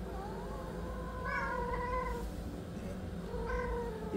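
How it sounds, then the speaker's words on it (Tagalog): A male cat meows several times indoors, with drawn-out, wavering calls at moderate volume separated by short pauses against a quiet background. "Ayan si Tornado, male cat namin"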